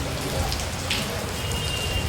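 Heavy rain pours down steadily over an outdoor birthday gathering, a dense, continuous hiss of drops that stays loud and unbroken throughout.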